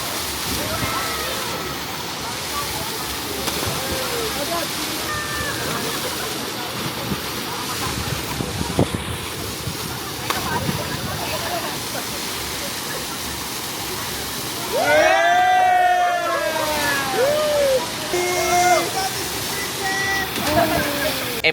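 A waterfall on a nature trip, steady loud rushing water throughout, with people talking and calling out over it in the later part.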